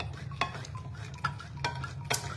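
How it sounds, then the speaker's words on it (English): Manual can opener working on a can of Rotel, four faint metallic clicks and crunches spaced roughly evenly over a low background hum, close but quiet with no voices. "So, we're gonna open up our cans."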